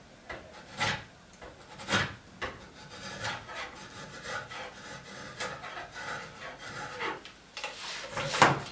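Hand tool slicing and paring wood while shaping a chair arm rail, a run of close rasping strokes in an uneven rhythm, some sharper than others, with no talking.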